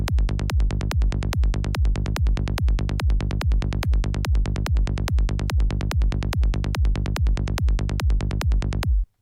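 Synth bassline processed with multiband transient phase shaping, a steady run of evenly spaced punchy bass notes with sharp attacks and quick decays, loud and alone, stopping abruptly at the end.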